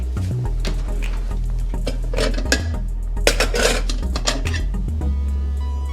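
A dish and ladle clink and clatter while seafood chowder is served into a bowl, with a quick series of close metallic and ceramic knocks and scrapes and no voices.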